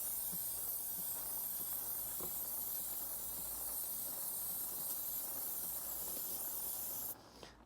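Degreaser sprays onto a motorcycle chain in a steady, close, faint hiss lasting several seconds, broken by small clicks, and cuts off near the end.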